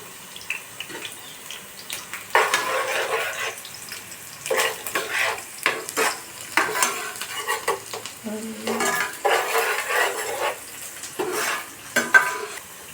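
Green chilies frying and being stirred in a pan for kushka rice, with bursts of sizzling and scraping strokes at an uneven rhythm, moderately close.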